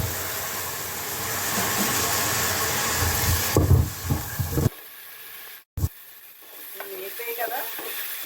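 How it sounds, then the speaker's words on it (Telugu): Chopped tomato pieces go into a hot pan with oil and fry with a steady loud sizzle, followed by stirring and scraping. The sizzle dies down and then continues more quietly with occasional clatter. "కోసి పెట్టుకున్న టమాటా మొక్కలు వేస్తున్నాను"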